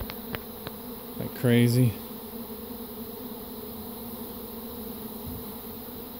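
A swarm of bees buzzes in the open air, with a brief louder burst as insects pass close by, then a steady low hum; a person speaks briefly.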